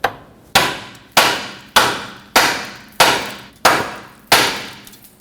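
A hammer strikes the steering knuckle of a 2006–2010 Hyundai Sonata to free a stud, eight loud, evenly spaced metallic blows, each ringing briefly before the next, close up and with no talking.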